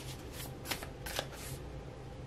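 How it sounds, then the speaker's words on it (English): A deck of tarot cards is shuffled close by, with several quick riffling bursts of papery flutter over a quiet room hum. "Six of Coins."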